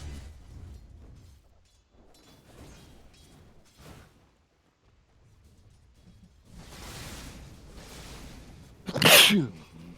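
One loud, close sneeze near the end, an abrupt burst after quieter breathing, shuffling and background noise.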